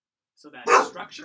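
A pet dog barks and yips just once or twice, close by, mixed with a man's speech over it.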